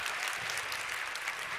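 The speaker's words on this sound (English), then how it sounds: "Let's give Black Enterprise a big round of applause." Steady, fairly quiet audience applause fills a short stretch at a conference for Black women on getting onto corporate boards, even throughout with no distinct voices.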